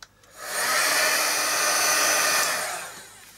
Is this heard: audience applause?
no